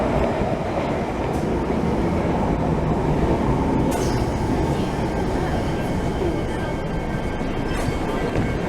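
Continuous loud rumble of a London Underground train at Baker Street station, with steady rolling wheel noise, a few brief high squeals and clatters, and faint voices in the background.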